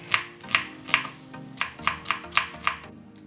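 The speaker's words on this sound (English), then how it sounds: "Slice the onion finely." A knife slices an onion finely on a cutting board, about eight crisp, evenly spaced chops close up, each a short sharp knock, with no talk.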